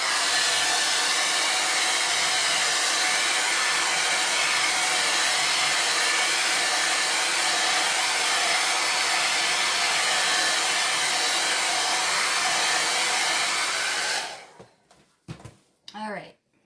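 A hair dryer dries chalk paste on a home decor project: a loud, steady, close blowing roar lasting about fourteen seconds, then it switches off and brief voices follow.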